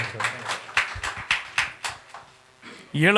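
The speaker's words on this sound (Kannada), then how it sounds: "ಒಂದು ಜೋರದ ಚಪ್ಪಾಳೆ ಬರಲಿ ಮುನೇಶ್ ಅವ್ರಿಗೆ" Audience applause for a singer at a stage gathering of vocalists, a small group clapping in a loose rhythm of distinct hand claps, then a voice starts speaking at the end.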